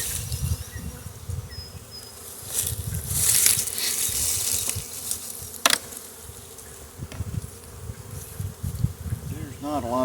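Honey bees buzzing inside a sparsely populated nuc hive box, a close, wavering drone rising and falling, mixed with handling bumps, thumps and rustling.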